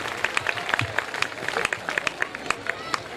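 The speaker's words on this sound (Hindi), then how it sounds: "एक बार जोरदार तालियां उनके अभिनंदन के लिए।" An audience applauds at a Hindi poetry gathering (kavi sammelan), with scattered claps and some crowd murmur blending into a brief, moderately loud round of clapping.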